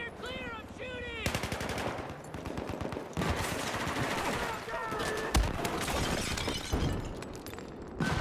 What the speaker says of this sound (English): Clear, clear, I'm shooting.